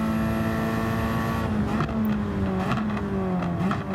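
Engine of a backyard-built Ford Focus touring race car howling at high revs on track during a race, loud and continuous, with shifts and revs dipping and climbing over a few seconds and no talk.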